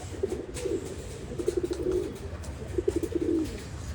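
Pigeons of Kolkata breeds coo in a loft, low rolling calls repeating in three clear bouts over a steady murmur of background noise, fairly close and moderately loud.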